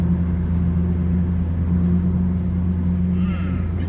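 A heavily camouflaged McLaren P14 prototype on a UK road gives a steady low engine rumble, fairly loud and close, droning evenly for a few seconds.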